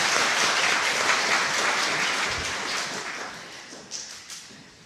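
Congregation applause at a church sermon, a dense wash of many hands clapping that holds steady then gradually tapers off, with a few louder claps near the end.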